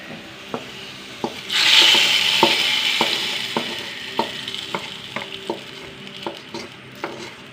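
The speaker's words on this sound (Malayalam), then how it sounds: "ഉള്ളി നന്നായി മൂക്കട്ടെ ഉള്ളി നന്നായി മൊരിച്ചു കേട്ടോ" Onions fry in a pan with a constant sizzle that swells into a brighter hiss, while a utensil knocks against the pan in a steady rhythm about twice a second.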